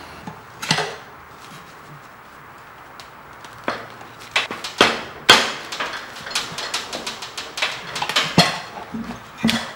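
Tire levers prying a tire onto a wheel rim: after a quiet start, a few hard clacks give way to a dense run of metallic knocks and scrapes as the levers work the bead.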